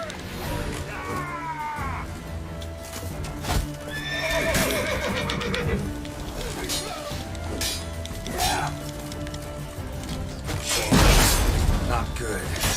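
Roach, a horse in The Witcher 3, neighs several times over hoof clops, with a louder burst near the end. Game sounds and occasional speech run underneath.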